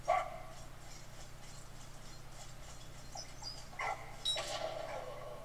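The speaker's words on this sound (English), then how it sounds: "Good doggy." A dog in the WWI video game Valiant Hearts gives a few short barks and soft whimpers, fairly faint over a steady low background hum.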